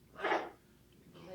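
A single sharp sneeze bursts out at moderate distance, followed by a softer breathy sound a moment later.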